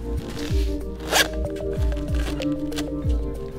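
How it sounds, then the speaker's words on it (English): A zipper on a suit is pulled up in a few quick rasping strokes, close and clear, with faint rustling of fabric between pulls. "stretch it out, go for the zipper,"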